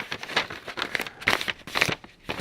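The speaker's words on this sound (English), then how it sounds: "he took his piece of paper and he folded it" A sheet of paper folded like a letter, heard as a series of close crinkling, crackling rustles in quick uneven bursts with no voices.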